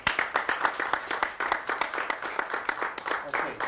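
An audience applauds at a talk: a steady, dense patter of many hands clapping continues throughout, moderately loud and fairly close, with some voices mixed in.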